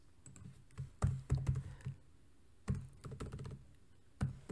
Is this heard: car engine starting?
no